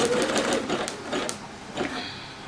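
A Singer Legacy SE-300 embroidery machine stitching an in-the-hoop project, a quick steady mechanical whir with rhythmic needle ticks, close by and running alone.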